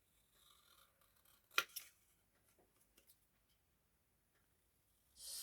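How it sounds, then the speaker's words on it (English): Straight scissors snipping through paper scraps while crafting baubles, a few quiet crisp cuts with one sharper snip near the middle and soft handling noises, ending in a brief rustle. "I might just do it with my straight scissors"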